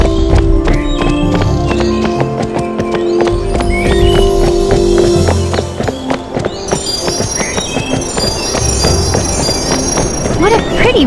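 Rapid, rhythmic hooves of a galloping horse in Barbie Horse Adventures on PlayStation 2 pound steadily through the whole stretch, close and loud, mixed with game music and occasional chime tones.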